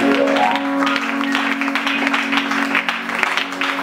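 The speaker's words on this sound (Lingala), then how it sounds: "Ça, on a acclamé." A church congregation at a seminar service claps and cheers, a dense burst of applause and raised voices filling the hall at close range throughout.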